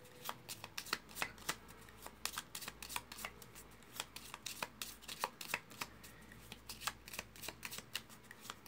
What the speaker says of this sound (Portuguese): E as nossas cartas então estão embaralhadas.